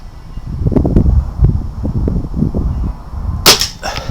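A BSA R10 Mk2 air rifle fires a slug with one sharp crack near the end, after soft outdoor rustling and wind noise.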